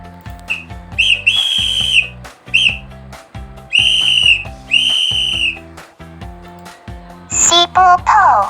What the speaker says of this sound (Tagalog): Sipo po!